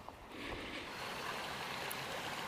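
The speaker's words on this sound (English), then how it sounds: "that's a beautiful creek down there" A creek flows below in a steady, faint, distant rush of water, continuous and without voices, heard from a spot overlooking it.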